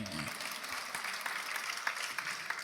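Applause from a church congregation during a sermon, a dense continuous patter of clapping hands at moderate distance lasting throughout, with a faint voice briefly underneath.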